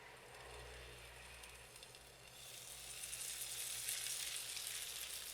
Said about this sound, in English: We cook the guanciale briefly in a slightly oiled pan, adding just a bit of vinegar